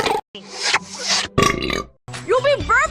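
A female cartoon character burps loudly several times in a row, long croaking belches broken by short silences, with voiced vocal sounds close to the microphone.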